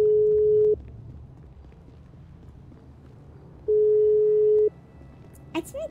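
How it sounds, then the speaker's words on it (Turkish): A phone ringback tone sounds for a call that goes unanswered: two long, steady electronic beeps separated by a few seconds of quiet line hiss, ending with a brief faint voice. "Açmıyor ki telefonu."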